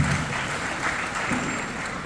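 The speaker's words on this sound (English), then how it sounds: "give everybody a big round of applause" A crowd at a high school commencement ceremony claps steadily throughout, a dense wash of applause from many hands, fairly loud and sustained.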